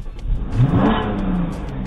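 A 2013 Porsche Cayman 981 with a mid-mounted flat-six boxer engine, revving up loudly and close by, the pitch climbing and then settling into a sustained high drone.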